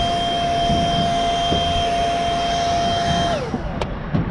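A loud, steady blower roars close by while clearing debris off a barn's metal roof, with a high whine running throughout, then winding down near the end.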